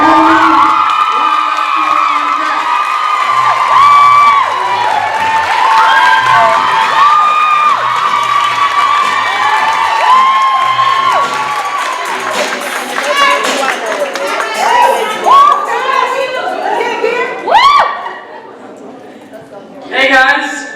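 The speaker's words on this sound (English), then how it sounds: "let's keep the applause going for the poet from Lincoln College Preparatory Academy" Audience at a youth poetry slam cheers, whoops and claps for a poet from a college preparatory academy, a loud sustained crowd roar with shouting voices that fades into scattered claps and cheers toward the end.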